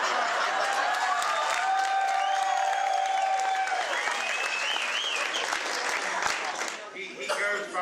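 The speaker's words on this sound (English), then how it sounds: "He goes by the applause to see how well he's doing." A roast audience breaks into loud applause with some cheering and chuckles, the clapping dense and close while voices and whistle-like tones ride on top, tapering off in the final seconds.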